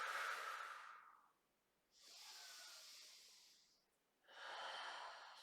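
During a bedtime Pilates stretch with an upper back twist, three slow, airy breaths are heard up close, with quiet gaps between each inhale and exhale.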